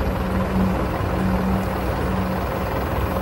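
South African Air Force jets flying over from Pretoria during a state funeral, a constant broad engine roar with a low steady drone and no breaks, loud and unvaried throughout.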